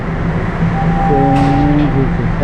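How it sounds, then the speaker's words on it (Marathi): A Toronto TTC subway train rumbles steadily, and a high metallic whine and squeal rise over it for about a second before fading back into the roar. "आपली ट्रेन आली का गेली"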